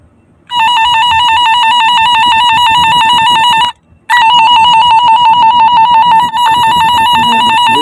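An electrical line tester used during rewiring of fire-damaged light wiring emits a loud, steady high-pitched beeping tone, cutting out briefly partway through before resuming with a slightly pulsing rhythm.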